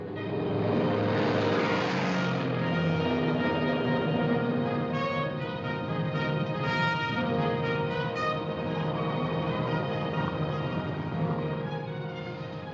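A big plane flying in a radio drama sound effect, heard as a steady, loud engine drone that holds without a break from start to finish.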